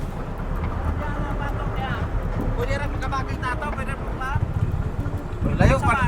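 A motorcycle engine hums in the distance, slowly drawing nearer along a rural farm road, steady and fairly faint beneath wind and people talking nearby.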